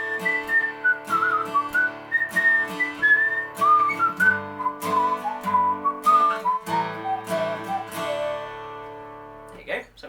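Rhythmic strummed acoustic guitar chords in DADGAD tuning, an Irish-style accompaniment, keep a steady beat beneath a bright whistled melody, ending with a final strum.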